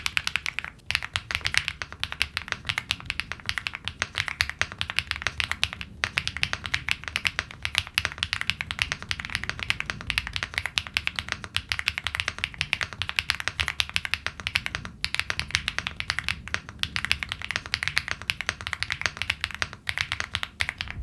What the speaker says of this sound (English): It's quite clacky rather than thuggy. The typing experience is fantastic.